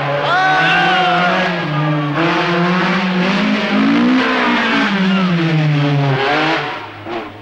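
Rally cars racing on slippery morning stages of the 1977 Tour de Corse, with a loud engine revving hard as its pitch rises and falls through gear changes, close and continuous.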